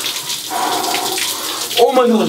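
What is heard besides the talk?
cold shower water running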